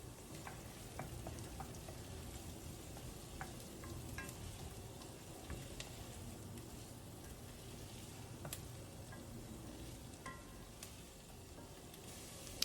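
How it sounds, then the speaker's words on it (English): Celery sautés in oil in a pan with a soft, continuous sizzle and crackle, occasional faint utensil ticks punctuating the quiet, close frying. "we're just adding in the celery and coating it in the oil and letting it saute."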